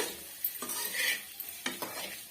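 An egg fry is gently stirred in a pan: soft scraping strokes over a low sizzle, close by and quiet, with no voices.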